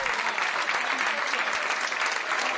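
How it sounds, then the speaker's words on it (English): An audience gives a standing ovation for a soldier's surprise homecoming reunion, with dense, close applause that stays at an even, loud level throughout. "The crowd gave this surprise reunion a standing ovation."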